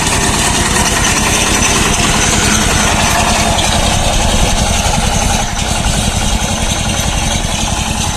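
Tractor in low first gear driving a five-year-old Zhmerynka conveyor potato digger, a loud steady rumbling engine drone with clattering mechanical chatter running continuously, close up with no talk.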